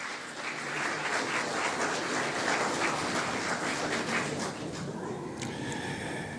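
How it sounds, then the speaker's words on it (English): A crowd applauds steadily for several seconds, a dense wash of clapping from many hands that tapers slightly toward the end. "Give yourselves a round of applause."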